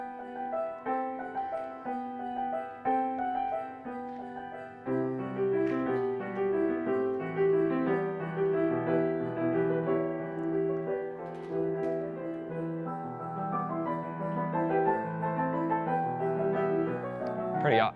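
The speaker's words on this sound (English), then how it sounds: "You can hear the orchestra in the background." Yamaha Disklavier player piano playing in a living room with an orchestral accompaniment, sustained piano notes over a fuller band of strings swelling in around the midpoint, steady and continuous.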